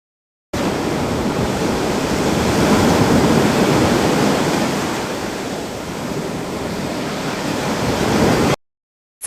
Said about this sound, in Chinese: 海浪拍打海岸